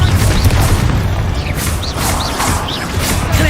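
A Confringo fire spell explosion in Hogwarts Legacy: a loud, sustained booming blast with a dense rumbling roar and crackling bursts running through the whole stretch.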